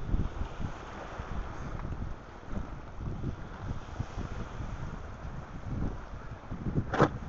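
A sailboat heads out of the harbour for a two-handed race, with steady wind buffeting the microphone and water rushing along the hull, plus a brief sharp knock near the end.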